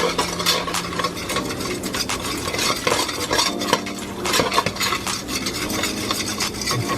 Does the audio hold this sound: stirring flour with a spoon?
yes